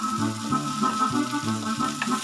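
Bockwurst sausage with its skin scored on both sides, dropped into a hot pan for currywurst, giving a steady close sizzle and spatter with faint rhythmic stirring or shifting for a couple of seconds.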